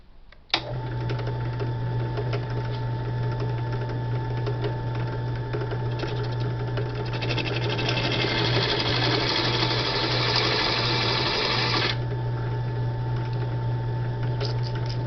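A rotary tool bit grinding a level patch into an aluminum Yamaha XS650 motorcycle side cover, a steady high whine with a constant buzzing hum that grows harsher midway and then eases back, close and continuous with no talk.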